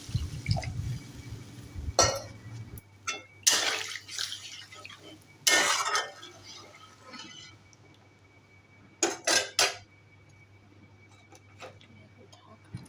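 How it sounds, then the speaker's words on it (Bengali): Water is poured over potatoes seasoned with chili powder and salt in a cooking pan, with splashy bursts and scattered clinks of utensils over a low hum in a home kitchen. "এবার এর উপর দিয়ে জল দিয়ে দেব।"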